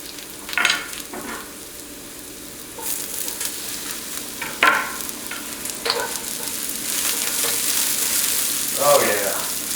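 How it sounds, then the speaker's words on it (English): Onion frying in a hot wok for surf and turf fried rice, a loud continuous sizzle with brief stirring scrapes and bursts, steady close up and building slightly toward the end. "Let that start roasting. I'm gonna throw my onion in there next."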